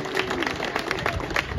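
A crowd applauds at a BMX race event in Richmond, Virginia, a steady wash of clapping and cheering held at an even level through the moment.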